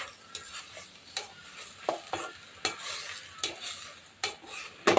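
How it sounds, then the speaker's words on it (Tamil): Washed greens with tamarind being sautéed in a dry pan, a spatula scraping and stirring in regular close strokes over a faint, soft sizzle. "கீரை நல்லா கழுவிட்டு கொஞ்சம் புளி போட்டு வெறும் வானிலையில் இந்த மாதிரி நல்லா வதக்கணும்"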